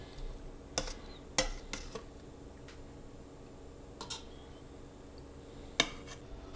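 Pans and utensils clink in a kitchen as endives cooked in orange juice are lifted out to drain, a few sharp, separate metallic knocks and taps over a quiet background.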